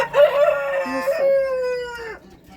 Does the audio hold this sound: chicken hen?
yes